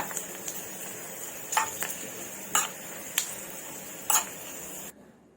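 A spoon stirs a ghee tempering in a pan over soft sizzling, with a handful of distinct metallic clinks against the pan before the sound cuts off.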